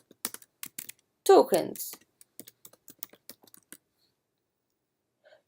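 Scattered, crisp keystrokes on a computer keyboard while a word is typed into a text box, sharp isolated clicks in a quiet room, interrupted once by a short spoken word.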